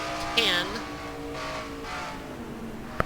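A race car engine drones steadily on throttle in a stock-car racing video game, a sustained mid-pitched hum with a brief rising whine, heard under a commentator's voice.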